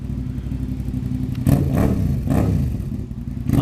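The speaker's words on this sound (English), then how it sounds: "He just sits on it all day, revs it like that, pretending that he's racing." A Yamaha Thunderace motorcycle engine, installed in its frame, revs in short repeated bursts over a steady idle, close and fairly loud with no talk.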